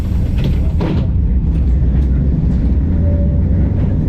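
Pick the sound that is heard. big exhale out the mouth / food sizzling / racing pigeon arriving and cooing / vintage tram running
vintage tram running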